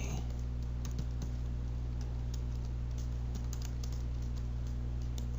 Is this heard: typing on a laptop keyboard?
yes